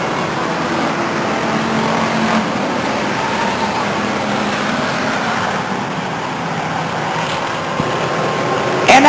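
Pure Stock race cars circle Stockton 99 Speedway, a steady distant engine drone and rumble of traffic noise that swells slightly, heard faintly as a background bed.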